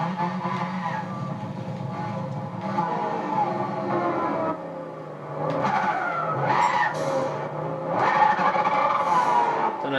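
Turbocharged rear-wheel-drive GT3 race car in Gran Turismo 6, its engine droning steadily with tire skidding and squeals mixed in, loud and continuous throughout with no talk.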